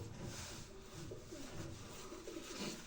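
Pigeons coo softly in a steady, low, repeated rhythm against a constant hiss of background noise, faint and somewhat distant.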